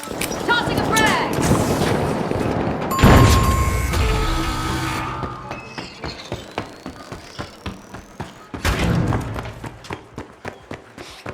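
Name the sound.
frag grenade explosion and gunfire in video game The Finals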